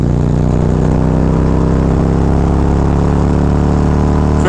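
A Harley Road Glide fitted with a Feuling 465 cam pulls hard in fifth gear, its steady mid-range engine drone loud and continuous throughout, with a slight rise near the end.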